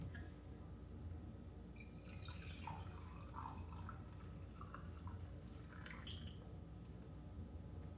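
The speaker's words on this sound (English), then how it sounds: "Coffee poured" Coffee is poured into a cup, a faint thin trickle of liquid with small splashy drips over steady low room noise, continuing for several seconds.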